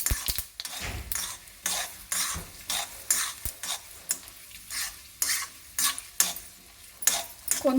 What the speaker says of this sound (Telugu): కొంచెము పప్పులు ఫ్రై కావాలి.